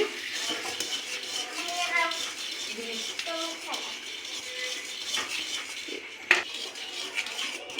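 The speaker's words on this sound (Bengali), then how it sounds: "আমি এভাবে অনবরত নাড়াচাড়া করছি" A utensil scrapes and clinks against a pan as patishapta pitha batter is stirred continuously, with repeated metallic scraping, a sharp clank near the end and speech faintly underneath.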